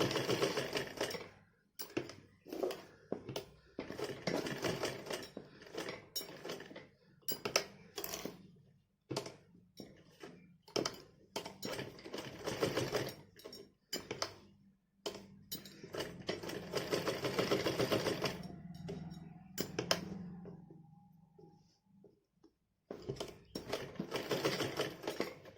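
Sewing machine stitching a baby's Holi dress, repeated bursts of rapid mechanical stitching with short pauses between runs, close and fairly loud, no talking.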